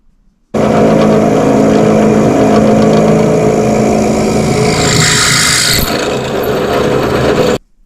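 A drill bores steadily through the crankshaft of a Specialized Kenevo SL e-bike during its conversion to a non-assisted bike. The loud, continuous grinding rasp runs nearly unbroken for about seven seconds, then stops abruptly.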